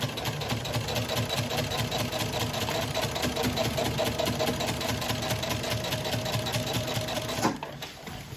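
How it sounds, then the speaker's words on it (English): A sewing machine quilting layers with a walking foot runs steadily and close for about seven seconds, a continuous mechanical whir with rapid stitching rhythm, then stops abruptly. "I'm going to start sewing now. So we just want to go slowly and steady and take our time."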